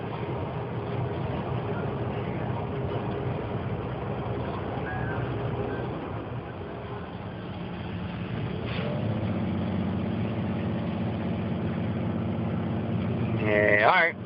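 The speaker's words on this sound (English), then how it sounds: "I'm still driving along on the Midland Trail on my way to Mount Nebo to deliver some diesel fuel" A diesel-fuel delivery truck drives along the Midland Trail toward Mount Nebo, heard as a steady low engine drone and road rumble filling the cab, with a gear or throttle change near the middle and a brief louder rattle at the end.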